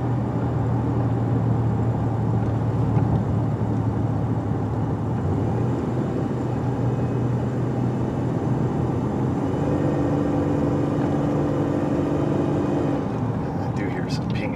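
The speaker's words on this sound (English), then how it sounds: "I do hear some pinging in the engine" A steady, low car engine drone labors continuously under load up a steep grade, with engine pinging, a constant rumble and road noise throughout and a faint change in pitch near the end.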